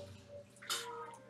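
Minecraft video game sound of a bucket scooping up water: a single brief splashy slosh in the middle, moderately loud, over quiet background music.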